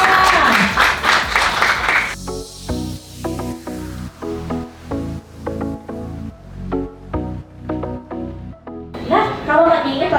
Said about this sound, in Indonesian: Boleh tepuk tangan Bapak Ibu semua.